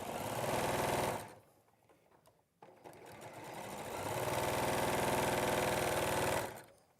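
A sewing machine stitches quilt squares with a fast, even mechanical whir, pausing for about two seconds before resuming its steady run, then stopping near the end.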